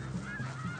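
Geese honking on the Arctic tundra, a brief burst of nasal calls that sounds fairly close.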